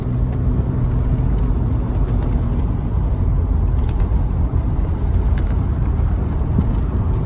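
Nissan 300ZX Z32 sports car driving hard along winding back roads, a steady loud engine drone and road rumble filling the whole stretch with a brief low tone early on.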